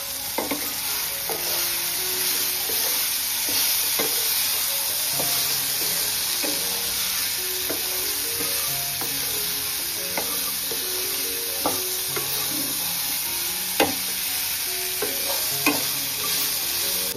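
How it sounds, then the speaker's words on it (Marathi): Kantoli and potato vegetable fry in a pan while a spoon stirs through them, a steady sizzle underneath with many small scraping knocks, close and continuous, no voices. "कंटोली टाकू, कंटोलीची भाजी. त्याच्यानंतर टाकू बटाटा. मस्त मिक्स करून घेऊ आता."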